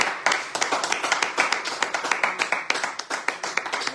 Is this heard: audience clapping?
yes